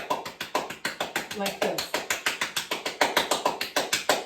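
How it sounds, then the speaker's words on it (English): Fast hand clapping during a morning exercise ritual, roughly two dozen sharp claps in a quick even rhythm close up, with a few words spoken over them. "And this is fast clapping."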